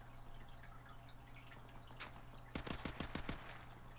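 A quick burst of about six sharp gunshots rings out near the end of a Call of Duty: Modern Warfare Remastered 3v3 match, following a stretch of low background hum.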